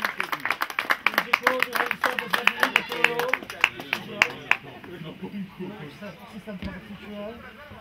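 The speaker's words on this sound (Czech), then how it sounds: "Potlesk, ano, našim veteránům." A crowd claps for the veterans at the Sherwoodský oštěp javelin event in 2012, with brisk, fairly close clapping for several seconds that thins out and gives way to voices talking in the background.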